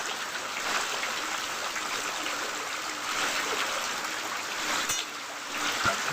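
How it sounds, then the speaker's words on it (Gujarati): Continuous broad hiss of heavy rain pouring down on Ujjanwada village, steady and dense, with a few faint knocks near the end. "જુઓ મિત્રો, ફૂલ વરસાદ ચાલુ છે."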